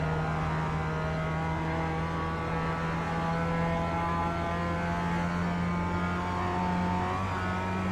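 Mazda race car engine howling at steady high revs around the Nordschleife in iRacing, a continuous loud droning tone with slight pitch shifts, alone with no talk.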